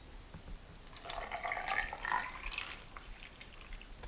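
Salt brine poured from a container into a jar packed with cucumbers for lacto-fermented pickles, a soft steady trickle and splash that swells in the middle and tapers off, close by and fairly quiet.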